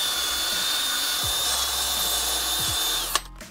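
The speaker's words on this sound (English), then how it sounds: "with a wire wheel" A wire wheel on a power tool grinds steadily against a car brake caliper, giving a loud, continuous high whine and rasp that cuts off abruptly near the end.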